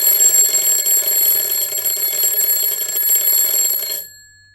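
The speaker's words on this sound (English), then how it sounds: "The silence was broken by a high-pitched screech, followed by several beeps, and a hand emerged from underneath a bundle of blankets, slapping the top of an alarm clock" An alarm clock goes off with a loud, piercing, high-pitched electronic screech and rapid beeping that holds steady for about four seconds and then cuts off abruptly into silence.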